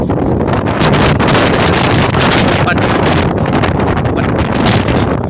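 Strong, roaring super typhoon wind blasts steadily over the microphone at Tayud anchorage, loud and continuous, with rushing gusts throughout.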